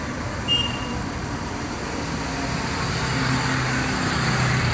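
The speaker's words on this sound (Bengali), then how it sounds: "এটা হচ্ছে হাইওয়ে। হাইওয়ে দেখুন" Highway traffic rolls past near the main gate of the ISKCON temple, a steady low rumble of vehicles that swells gradually, with a brief horn near the start.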